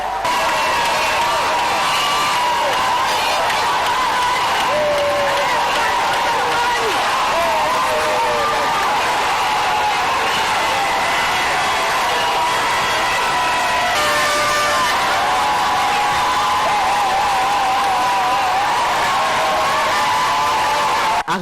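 A large outdoor crowd at a market cheers and applauds the head of state, a continuous loud roar of voices, whoops and clapping that holds steady throughout, with a narrator speaking over it.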